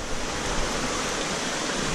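Water pumped at about 60,000 gallons an hour pours steadily into a rubber-lined pond filter, a constant close rushing splash with no break.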